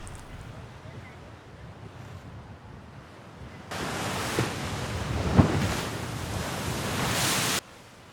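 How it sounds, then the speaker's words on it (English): Sea waves crash fiercely onto the shore of a small coastal town in China, sending up spray. After a quieter, windy opening, a loud, sustained wash of surf rises and holds with one sharper crash, then drops off abruptly. "The waves were crashing fiercely,"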